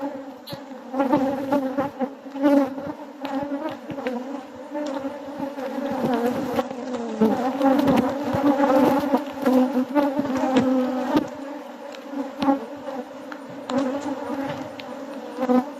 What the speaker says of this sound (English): These bees are trustworthy, very hard-working bees.